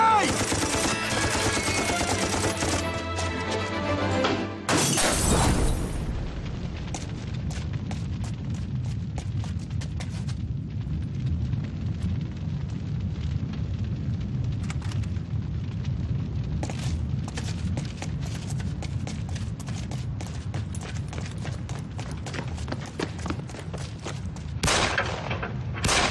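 Gunfire in a war scene set during an uprising: dense bursts of machine-gun fire and single rifle cracks crackle close and loud over a low rumble, with a heavy boom near the start and shouting voices between volleys.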